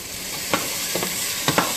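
Onions and garlic frying with a teaspoon of cumin for home-style chili, a steady close sizzle broken by a few soft scraping stirs of a spoon in the pan.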